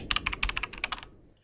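A vintage typewriter is typed on in a quick burst of about a dozen crisp, close key strikes, then falls silent.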